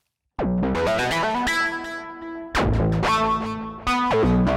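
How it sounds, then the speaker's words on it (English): Synth chords run through analog tape and Slate preamp emulation for added distortion, giving gritty, saturated sustained tones with sharp attacks, loud and close, changing chord every second or so with no voices. "use a slate preamp in between the tape and the channel to add even more kind of dirt"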